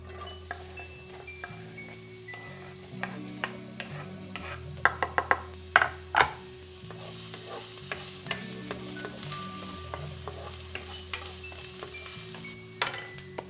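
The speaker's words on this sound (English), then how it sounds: "We are cooking our onions until they're nice and soft so we can start building on the layers." Onions fry in olive oil in a pot with a steady, soft sizzle and crackle throughout, and a few brief clinks of a spoon near the middle. No voices are heard.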